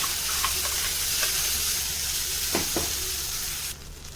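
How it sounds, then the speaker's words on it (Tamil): Ridge gourd chutney frying in a pan with roasted urad dal, giving a steady broadband sizzle with a few stirring scrapes, cutting to quieter frying near the end; no voices. "உளுந்து நல்லா வறுபட்டதுமே நம்ம இந்த சட்னியை இதுல போட்டுடணும்"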